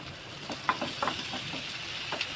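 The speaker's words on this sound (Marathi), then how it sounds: "यामध्ये मी टॅमॅटो घालते" Tomatoes fry in hot oil in a pan, a continuous close hiss and sizzle with a few soft stirring knocks scattered through it.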